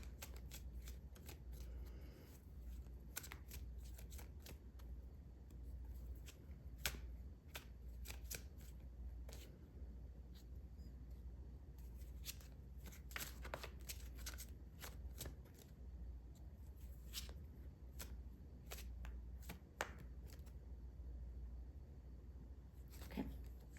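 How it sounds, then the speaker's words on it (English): Tarot cards are shuffled by hand throughout a pick-a-card reading, a steady run of crisp riffling and snapping card bursts, close and fairly loud over a low background hum, with no talking. "get some more cards out"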